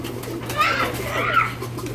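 Pigeons coo at a pigeon house, their soft, throaty calls rising and falling at moderate distance over a steady low hum. Faint voices may be present in the background.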